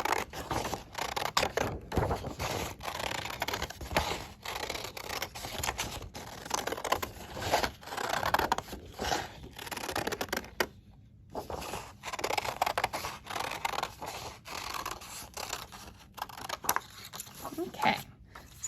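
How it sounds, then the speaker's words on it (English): Scissors snip steadily through orange paper, cutting out a circle for a pumpkin craft, with repeated close, crisp cuts in a slow rhythm and a short pause partway through. "I'm going to carefully cut my circle out"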